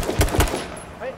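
Gunfire in a shooting video game, two sharp loud shots in quick succession near the start, then fading noise as game sounds continue.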